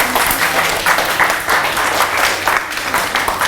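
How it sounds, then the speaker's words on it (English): Dense, continuous audience applause at a children's museum holiday event, many hands clapping close together at a steady, lively level with no pause. "Big round of applause for them."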